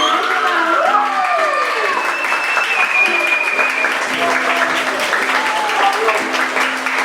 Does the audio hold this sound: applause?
yes